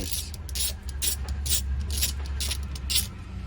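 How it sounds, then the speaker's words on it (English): Ratchet with an 8mm socket loosening solenoid terminals on a Rinse DC Plus, giving a series of quick clicking ratchet strokes in short bursts over a low hum, close and fairly quiet. "So I've switched to the 8mm. I'm going to slacken off"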